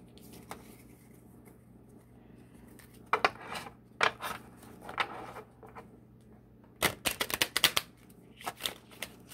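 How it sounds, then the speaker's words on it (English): Bursts of crisp riffling as a new, somewhat stiff deck of cards is shuffled close by, several quick flurries separated by short pauses, no talking. "Concentrate on the cards while I'm shuffling."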